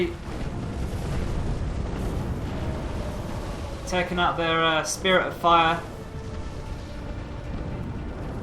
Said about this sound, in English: Big pretty explosion there.